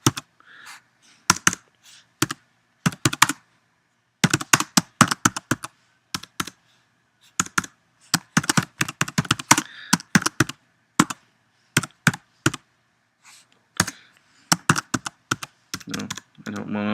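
Someone types text on a computer keyboard in short, irregular bursts of crisp, close key clicks separated by pauses.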